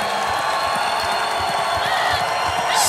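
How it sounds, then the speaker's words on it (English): Seattle home fans at a Legends Football League game in the 2015 Legends Cup against Chicago, a big crowd roaring and whooping in a steady, dense wall of cheering that swells slightly toward the end, with faint commentary beneath. "As this Seattle crowd now coming to life."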